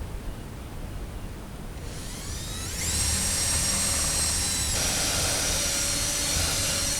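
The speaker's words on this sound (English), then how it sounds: "It drills into that center rail right there." A power drill bores into the center rail of a large wooden privacy-fence gate. The high, steady whine starts partway through and keeps going strong above a constant outdoor hiss.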